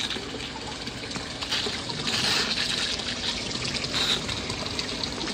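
A toy water-gun fire extinguisher sprays a steady hissing stream of water, continuous and fairly close, with slight surges in intensity and no talking.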